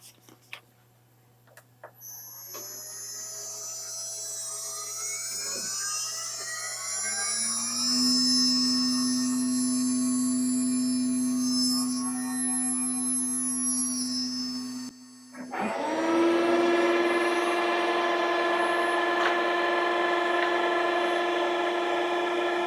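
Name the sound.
machine surfacing the new spoil board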